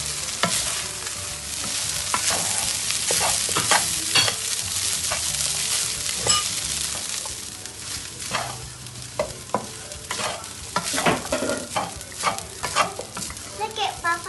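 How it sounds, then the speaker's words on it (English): Food being stirred and tossed in a hot pan, with scraping and clattering strokes over a continuous sizzle, loud and close, the strokes growing choppier toward the end. "Look at Papa mixing."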